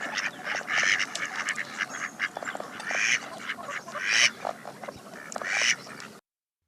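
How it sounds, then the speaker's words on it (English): Mallard ducks quack loudly and repeatedly in a nasal, irregular series of calls, close by, with no talking over them, until the sound cuts off abruptly near the end. "If it looks like a duck and it quacks like a duck, it's probably a mallard."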